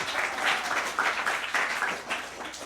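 A comedy club audience at The Groundlings applauds, a moderately loud burst of clapping rising and tapering over a few seconds.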